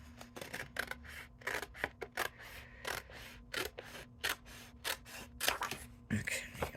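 Scissors cutting paper card with a green craft template for a simple stepper card, a quick run of crisp snips in short uneven bursts, close by, with some light rustling.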